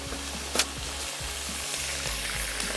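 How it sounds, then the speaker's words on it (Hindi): Chicken pieces fry in very hot vanaspati oil, a dense continuous sizzle close up with a brief clatter near the start and no voices. "चिकन डाल के फ्राई करेंगे। हमेशा की तरह तेज़ तेल में"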